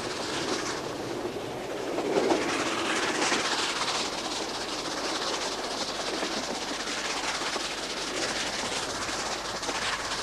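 A steam train runs on the Settle and Carlisle railway in the hills near Dent, giving a steady broadband rumble and rushing roar that holds for the whole stretch, swelling slightly early on.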